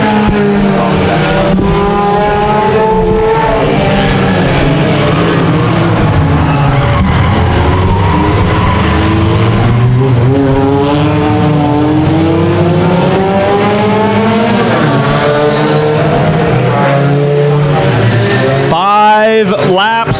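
Race cars roar around Orange Show Speedway in a main event, with loud sustained engines rising and falling as they pass close by and an announcer calling laps over the noise.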